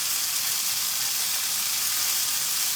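Beef and broccoli sizzle steadily in a frying pan, a close, continuous hiss of hot oil with no pauses and no voices.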